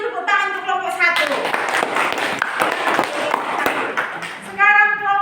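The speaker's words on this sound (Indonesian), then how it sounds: "Kita beri dulu tepuk tangan untuk kelompok 1." Classroom applause for a group of children, a burst of mixed clapping from a small crowd lasting about three seconds between stretches of a person talking.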